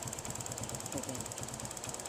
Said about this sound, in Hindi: अभी बाइक स्टार्ट है हमारा